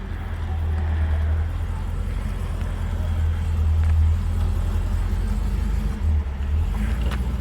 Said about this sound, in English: it's a very funny thing to watch that little car pull that teeny tiny little trailer